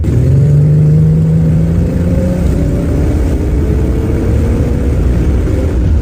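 A steady, loud engine note from an original classic muscle car on the move, a continuous low drone that rises slightly in pitch early on and then holds even throughout, with no voices.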